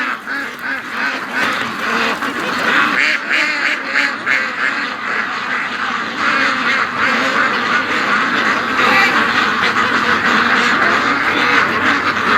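A flock of ducks quacking loudly and without letup by a lake, with some goose honks mixed in, a dense close chorus that lasts the whole time.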